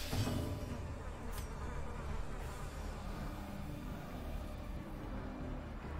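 A steady insect buzz hovers close in a dark dungeon game's soundscape, mosquito-like and continuous, with a low rumbling ambience running underneath throughout.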